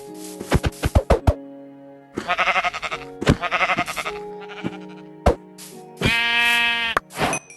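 Blocky Minecraft sheep bleat several times in a short burst, loud and close, with other game sounds and music-like tones mixed in.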